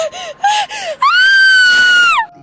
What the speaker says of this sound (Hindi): वह लड़की एक तेजी से चीख निकालती हुई